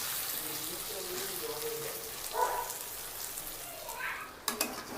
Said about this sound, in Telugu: ఈ విధంగా మీడియం ఫ్లేమ్లో పెట్టి వేయించుకుంటూ ఉన్నారంటే చూడండి, ముక్క కూడా మనకి రెడ్గా వస్తుంది.